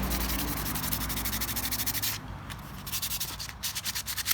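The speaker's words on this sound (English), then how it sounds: "So I'm gonna go all directions and just start sanding" Sandpaper scrubs back and forth across the clear coat of a motorcycle fender in quick, rhythmic, close strokes. The rasping stays steady, briefly eases midway, then resumes in short pulses.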